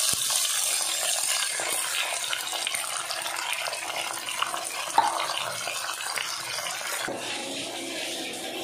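Water pours steadily into a cooking pot while a Filipino dish of ginataang kuray is prepared, a continuous splashing rush that lasts several seconds on its own, with a faint clink near the end.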